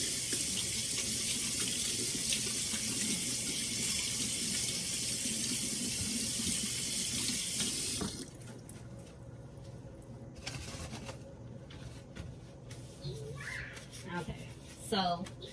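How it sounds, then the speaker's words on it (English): A kitchen faucet runs as hands are washed beneath it, a steady close splashing stream that cuts off halfway, followed by quieter rubbing and squishing sounds with a voice talking in the background. "I'm going to wash my hands again"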